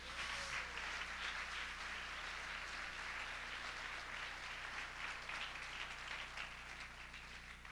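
Church congregation applauding for God during a sermon, a steady wash of many hands clapping heard from a distance, faint and continuous throughout with a low hum underneath and no talk.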